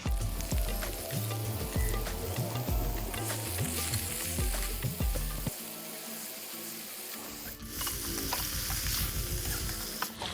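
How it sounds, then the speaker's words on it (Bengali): Cauliflower pieces fry in a little oil in a pan, giving a loud, close sizzle with repeated stirring scrapes. The sizzle drops briefly mid-way, then resumes. "এবার আমরা ফুলকপিটা অল্প ভেজে নেব তার জন্য অল্প তেল নিয়ে নিচ্ছি এর ভিতরে ফুলকপিগুলো এর ভিতরে আমি ভেজে নিচ্ছি"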